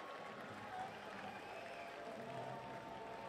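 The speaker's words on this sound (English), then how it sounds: "That gets a round of applause by the crowd" Distant crowd applause and murmur at a baseball game after a catch in left field, a faint, steady wash of clapping under an announcer's voice.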